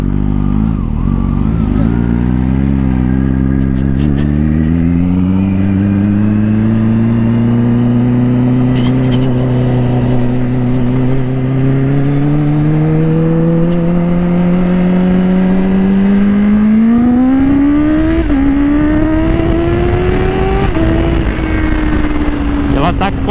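Kawasaki Ninja H2 motorcycle engine droning loud and steady while riding, pitch climbing gradually as it accelerates through gears, with a sharp drop and rise near the end as it shifts and revs up again.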